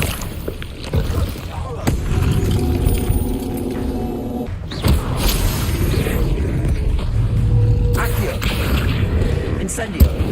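A fire spell is cast in a wizard video game, with sharp bursts of crackling, whooshing flame that flare twice and then roll on as a steady rush. Voices are heard throughout.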